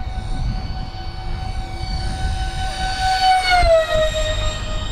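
An LX Models / Banana Hobby F-4 Phantom II RC jet makes a fast, inverted low pass, its loud turbine whine climbing as it nears, then sliding down in pitch as it rushes by overhead.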